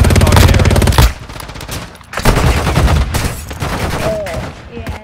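Rapid automatic gunfire from a secondary weapon in the mobile shooter Warzone Mobile, loud bursts of shots with short pauses between them, plus game sound effects and a few quieter later moments.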